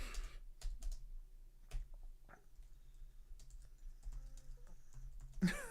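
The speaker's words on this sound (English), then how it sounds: "I'm just typing this in the chat." Light, irregular tapping of a computer keyboard as someone types in short bursts, with quiet pauses between keystrokes.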